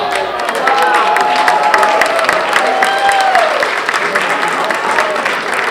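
Audience at a Rotary senior holiday luncheon applauding long-married couples, loud sustained clapping with cheering from a room full of people, while a voice speaks over it.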